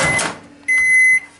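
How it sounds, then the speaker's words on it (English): A microwave oven powered through a modified sine wave inverter, drawing 1100 watts, ends its run with a harsh buzzing hum that fades, then a single clear electronic beep sounds close by. "That microwave's noisy with that inverter."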